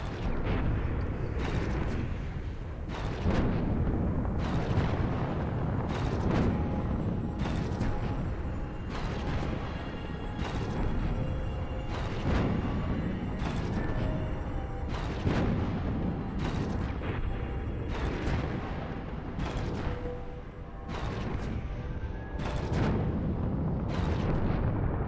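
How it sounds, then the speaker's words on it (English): Ship guns fire during a space battle in the game Nexus: The Jupiter Incident, a dense, continuous barrage of heavy booms and blasts repeating every second or so over a constant rumbling bed. "I shall shoot you slowly with my one gun"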